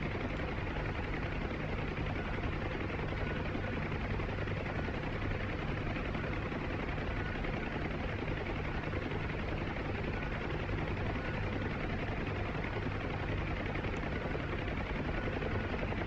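Huey helicopter in the flight game DCS World, rotor and turbine making a constant dense roar with a steady blade thump, loud and unbroken throughout.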